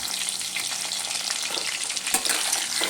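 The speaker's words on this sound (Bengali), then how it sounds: "কাঁচা কলাটা আমার প্রায় ভাজা হয়ে এসেছে" Raw banana frying in a pan gives a steady, close, dense sizzle with faint stirring scrapes, no voices.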